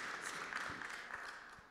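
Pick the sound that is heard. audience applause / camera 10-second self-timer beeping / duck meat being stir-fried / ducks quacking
audience applause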